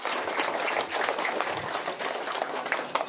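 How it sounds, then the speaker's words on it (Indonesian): Audience clapping at a Christmas celebration in a village church, a steady, dense patter of many hands filling the room with some faint voices mixed in. "tepuk tangan dulu"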